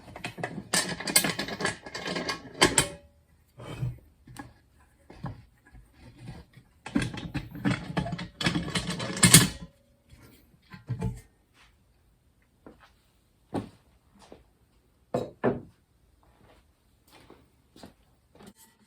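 A pressure pot tank being opened after the pressure is let down to zero, with scattered clanks, metallic scrapes and clicks in separate bursts and quiet gaps between them.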